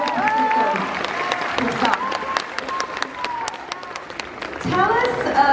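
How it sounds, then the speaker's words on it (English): An audience at a Q&A panel at a Korea expo claps in a sustained round of applause while voices speak over it, with the clapping swelling again at the end. "Cela vraiment vaut des applaudissements."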